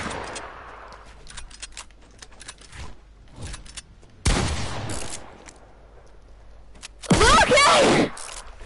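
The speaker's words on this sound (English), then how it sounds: "Man, stop shooting." Gunfire bursts in the video game Fortnite, loud rapid volleys near 4.3 s and again around 7.2 s, with quieter scattered shots between, while voices talk over the game sounds.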